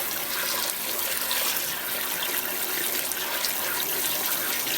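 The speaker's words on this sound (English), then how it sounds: "And then I'm just going to go ahead and rinse those real good." Running tap water pours steadily over cucumbers in a strainer in a kitchen sink, a continuous close splashing rush with no talk, rinsing produce for bread and butter pickles.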